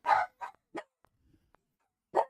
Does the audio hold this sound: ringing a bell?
no